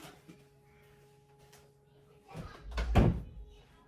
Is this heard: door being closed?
yes